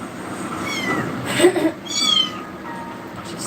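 Healthy young kittens meow loudly and insistently for their mother's attention, with a few sharp, high cries close by over a low background rumble.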